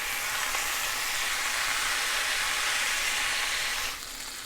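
Garlic sizzling in a hot pan with lemon juice squeezed in, a steady bright hissing fry that holds evenly close by, then drops slightly quieter near the end.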